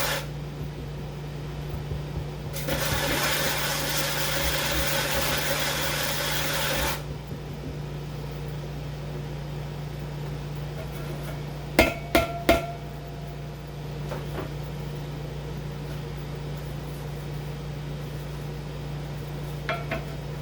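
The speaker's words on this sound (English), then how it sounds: "We're ready to do a little sanding." A steady motor hum from a spinning pottery wheel runs throughout while a harsh, broadband abrasive rasp of sanding a bone-dry clay pot plays for a few seconds, followed by a couple of sharp knocks.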